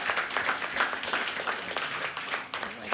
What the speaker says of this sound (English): A warm applause for everyone.